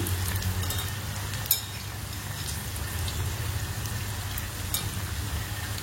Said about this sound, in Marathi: उलट सुलट दोघं साईडने छान तळून घ्यायचे आहे